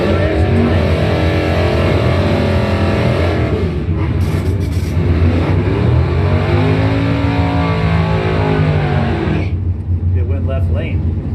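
Drag race cars roar down the strip at a points event, a loud continuous engine drone with rising and falling pitch, while an announcer talks over it throughout.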